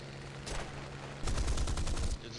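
Aircraft machine-gun fire in War Thunder, rapid bursts crackling loudly in two stretches, the second longer and denser, over a steady engine drone.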